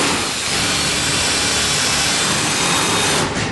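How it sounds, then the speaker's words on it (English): Loud, harsh grinding of a drill held at an angle cutting a hole in a steel cabinet, a continuous rough whine that holds steady and then eases off at the end. "Just take your drill at an angle"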